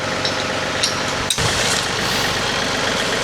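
A tractor engine idles close by, a loud steady mechanical rumble and drone that dips briefly for an instant midway, then continues evenly with no voices.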